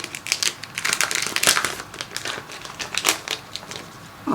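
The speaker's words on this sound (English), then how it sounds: "So let's open the plastic out." Protective plastic wrap crinkles and crackles as it is pulled off a new Samsung Galaxy A72 phone. The crisp rustling comes up close in rapid, irregular bursts.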